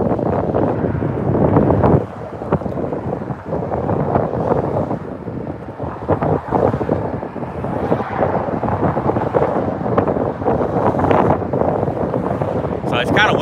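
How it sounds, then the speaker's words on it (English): Strong wind blows outdoors, roaring and buffeting the microphone almost without a break, with loud gusty rumbles throughout. "It's kind of windy out here, guys."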